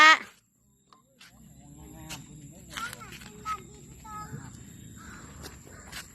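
A crow caws outdoors on an evening walk, a short sharp call at the start and a few fainter caws later, with quiet background chatter and rustling.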